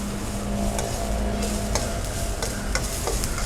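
Ingredients for a Tamil crab soup (nandu rasam) sizzling steadily in a pan while a spoon scrapes and stirs through them in several distinct strokes, close and fairly loud, with no voices.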